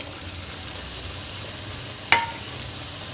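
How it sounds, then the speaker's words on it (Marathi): Tomatoes and potatoes sautéing in a pan for aloo methi bhaji, a steady close sizzle with one brief sharp clink of a utensil partway through. "छान एकदा असं परतून घ्यायचं आपल्याला।"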